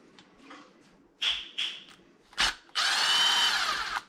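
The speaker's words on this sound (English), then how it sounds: "Okay, so we'll just continue taking these screws out." A power driver backs screws out of the center differential on a Losi DBXL 2 RC truck, in several short close bursts followed by one longer steady whir.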